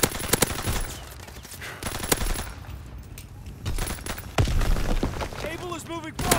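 Rapid bursts of automatic gunfire and sharp shots in a video game battle, dense and loud with brief pauses, under shouted in-game voice callouts.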